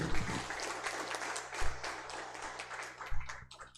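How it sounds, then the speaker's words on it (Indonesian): Dense audience applause for village head candidates at a Pendoworejo election campaign event, sustained clapping close and moderately loud, with a few stronger bursts before it tapers off. "mari kita beri tepuk tangan kepada calon yang berhak dipilih"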